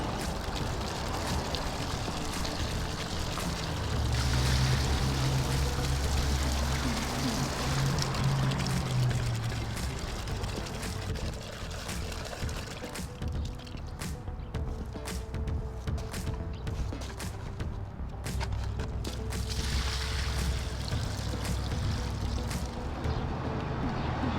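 Water rushes steadily through a homemade gold sluice, washing gravel and material along in a continuous broadband wash that stays loud and unbroken throughout, with no talk over it.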